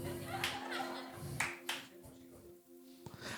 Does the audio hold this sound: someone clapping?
yes